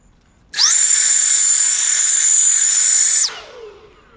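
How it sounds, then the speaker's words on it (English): A powerful air blower dries water off a BMW X7, a loud steady high-pitched whine that starts abruptly, holds for nearly three seconds, then winds down. "Let me show you with the blower. Let's see if I can dry it out."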